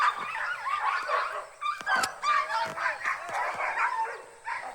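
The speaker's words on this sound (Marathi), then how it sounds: "ती डॉगी भोगते" A dog barks in repeated short yips and bow-wows at a village home in Konkan during Shimga festivities, fairly close, with some whimpering mixed in and no talk over it.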